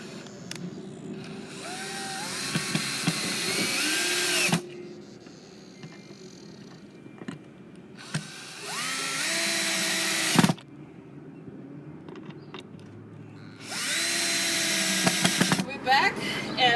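Power drill driving screws into a pallet wood frame for a raised bed planter, heard in three separate whirring bursts that rise in pitch as each screw seats, with quieter gaps between them.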